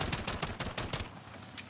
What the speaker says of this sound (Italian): è Miki che spara